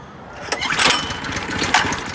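A Predator engine swapped onto a dual-shaft snowblower in place of a 5.5 Tecumseh catches and runs with a loud, close, rough lawnmower-like chatter that rises as it starts.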